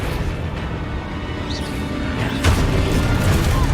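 A Confringo blasting spell goes off in the Hogwarts Legacy video game, a dense rumbling boom with a sharper burst near the end over constant game noise.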